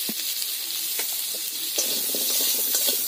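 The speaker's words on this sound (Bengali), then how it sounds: "এবার এর মধ্যে আলুগুলোকে দিয়ে দিচ্ছি কড়ার মধ্যে, দিয়ে আলুটাকে বেশ ভালো করে ভেজে নেব" Potatoes frying in oil in a wok with salt and a little turmeric, giving a constant close hissing sizzle with scattered small pops and crackles throughout.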